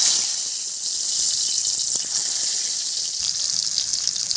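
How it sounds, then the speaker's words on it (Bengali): Eggplant slices frying in oil in a kadai give a bright, continuous hiss and crackle, close and steady, with a few faint knocks and no talking. "বেগুনগুলো ভেজে নেব"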